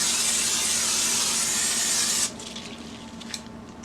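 A cooking oil spray can hisses onto a pan in one loud, steady, close burst lasting about two seconds, then cuts off, leaving faint ticks and room noise.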